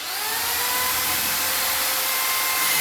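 Power drill boring through a wooden entrance door to fit a lock, a loud continuous whine held steady at close range for the full stretch, with no talking.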